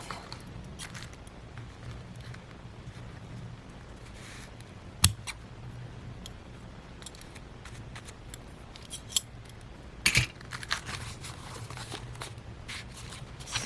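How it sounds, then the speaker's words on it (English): Scissors snip excess paper off a file folder for a junk journal page, quiet scattered cuts with a few sharper clicks and rustles in a calm room. "Just cut that excess off."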